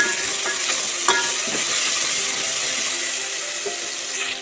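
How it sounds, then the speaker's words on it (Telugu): Tomato with mint and coriander fries in a pan, giving a steady close sizzle with occasional stirring scrapes and no talking. "ఇందులోనే కొంచెం పుదీనా కొంచెం కొత్తిమీర వేసుకొని కొంచెం ఫ్రై చేసుకోవాలి"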